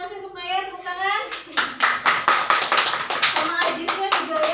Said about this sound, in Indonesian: kita terima kasih untuk Naya, tepuk tangan.